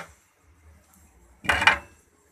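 A lid goes down over a tawa griddle on a stove while kholajai pitha cooks. One short metallic clatter rings out close by, with near quiet before and after.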